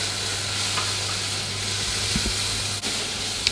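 Onions and garlic fry with curry powder and cardamom for vegetarian samosas, a steady loud sizzle with faint stirring scrapes, close and continuous with no voices.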